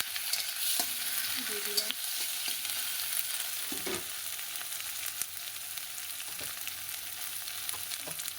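Chili, ginger and cumin paste sizzles steadily in a hot pan, a constant bright hiss broken by occasional scrapes and knocks of stirring, with a brief spoken remark near the start.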